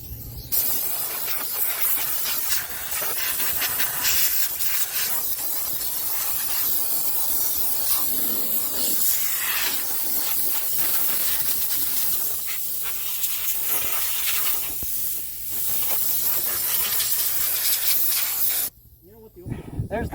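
Compressed air hisses steadily and loudly for about nineteen seconds, blowing debris out of the spark plug holes of an abandoned Mercury outboard engine that has sat for 13 years, then cuts off abruptly.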